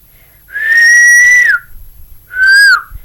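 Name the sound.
person whistling into the microphone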